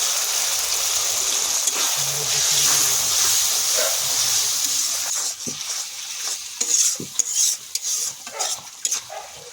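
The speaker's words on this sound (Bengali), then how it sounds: "এবার ভালো করে মশলাটা কষে নেব" Spice paste frying in oil in a pan for a Bengali fish curry with cauliflower and potato, a steady close sizzle and hiss with occasional stirring scrapes and clinks toward the end.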